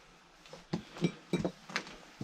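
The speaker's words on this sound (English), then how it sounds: "Have to be careful. There's some broken glass." Broken glass crunches and clinks underfoot on the floor of an old abandoned cottage, a series of close, sharp crackles and tinkles with brief pauses between steps.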